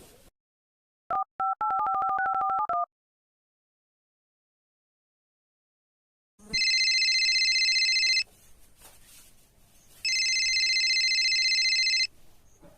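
A phone's dial tone and short tone blips, then two long electronic ringing bursts with a gap between them, fairly loud with faint background noise.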